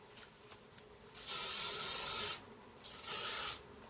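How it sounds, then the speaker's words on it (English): Hairspray hisses onto hair in two steady bursts, each lasting about a second, close to the microphone with a short pause between them and no talking. "Obviously, spray it with some hairspray."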